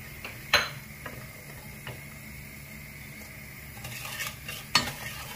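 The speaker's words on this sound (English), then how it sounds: "on medium heat, stir the mixture till the sugar dissolves" Light soy sauce and demerara sugar stirred in a pan over medium heat for braised chicken, a faint low sizzle with a few sharp utensil clinks against the pan.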